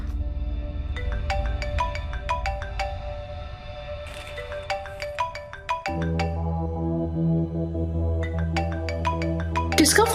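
A melodic phone ringtone plays as a run of bright repeated electronic notes. It sounds fairly close and steady over a low musical backing that changes partway through.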